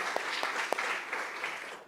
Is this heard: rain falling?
no